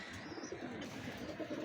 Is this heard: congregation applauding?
no